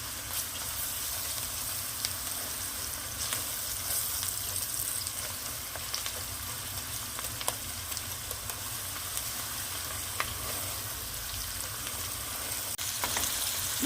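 Steady crackling sizzle of tomato and pepper paste frying in a hot pan, continuous and close, with occasional pops and faint stirring.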